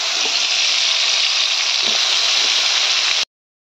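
Spiced eggplant pieces sizzle loudly in hot oil on a stove, a steady, dense frying hiss that cuts off abruptly near the end.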